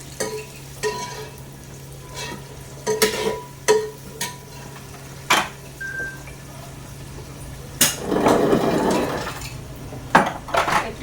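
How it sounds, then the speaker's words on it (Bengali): Onions frying in oil with turmeric and salt, a steady low sizzle beneath intermittent sharp clinks and scrapes of a spoon stirring against the pan, with a louder burst of frying and stirring toward the end. "হলুদ আর একটু নুন দিয়ে পেঁয়াজটা আগে ভেজে নিচ্ছি"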